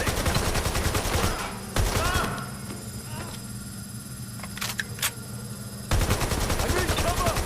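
Gunfire bursts in the video game Watch Dogs: Legion, loud rapid shots at the start and again at the end, with a quieter stretch between holding a few sharp isolated cracks.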